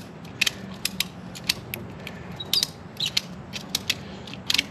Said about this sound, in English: tighten this up, ratchet it a couple times.